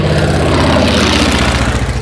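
A Waco biplane's radial engine passes close at an airfield, a loud continuous rumbling drone with a throbbing low beat that fills the whole moment, no voices heard.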